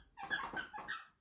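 A dog plays with a dinosaur toy, giving a few short squeaky, whimpering bursts in quick succession, fairly faint and close by with no talk.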